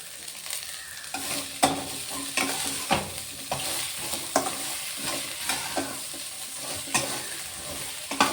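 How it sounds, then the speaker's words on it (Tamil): Bitter gourd pieces sauté in a pan, with a soft continuous sizzle broken by regular scraping and stirring strokes from a spatula, close by and with no talking. "இந்த மாதிரி நல்லா காய் வந்து கலர் மாறுற அளவுக்கு நம்ம வணக்கி எடுத்துடலாம்"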